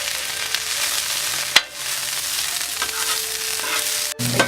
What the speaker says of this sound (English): I'm going to throw the broccoli down first, so we're going to put a little oil on the grill here.